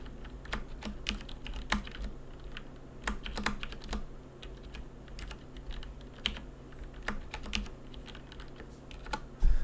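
Someone types on a computer keyboard during an online physics class, producing quiet, irregular clusters of key taps against a low room hum, with a louder thump at the end.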